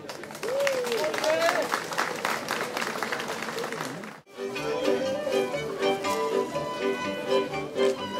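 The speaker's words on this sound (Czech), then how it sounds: "Prosím, veliký aplaus." Audience applause at a vinobraní wine harvest festival in Prušánky, greeting a costumed folk youth troupe. Broad, sustained clapping fills most of the stretch, briefly dips, then continues mixed with a voice and tuneful music.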